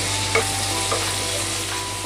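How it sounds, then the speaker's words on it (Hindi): Onion browning over a medium flame with ginger-garlic paste for chicken masala curry, a steady close sizzle with a few soft stirring scrapes and clinks, no talking. "मीडियम फ्लेम पे प्याज को ब्राउन होने तक भूनना है। जब प्याज आधा भून जाएगा उसी में डाल देंगे अदरक लहसुन का पेस्ट।"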